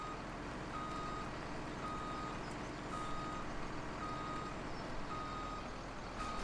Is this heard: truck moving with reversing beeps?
yes